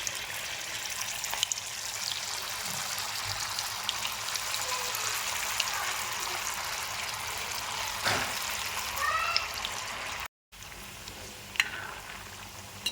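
Small Manchurian balls frying in medium-hot oil give a steady, close, crackling sizzle with bubbly popping that runs throughout and briefly cuts out near the end, no voices.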